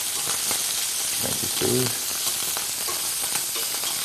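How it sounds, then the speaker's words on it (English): Pork belly frying and caramelizing in a pan, a continuous close sizzle and crackle with a brief spoken voice partway through. "the sound of cooking, the crackle of the frying pan."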